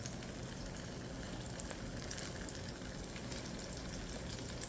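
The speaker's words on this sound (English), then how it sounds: "So we're gonna fry each side for 5 minutes." Strawberry fritters frying in oil, a faint, even, continuous bubbling hiss with no breaks or other sounds.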